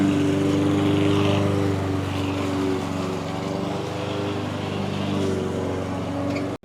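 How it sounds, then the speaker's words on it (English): A lawn mower mows a yard outdoors in Dallas, Texas, its engine droning steadily and loudly throughout at close range, with no talk over it. "they're mowing the yard over here"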